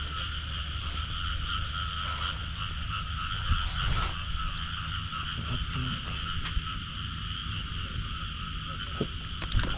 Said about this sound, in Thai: น้องกบไงเขาคู่ครับ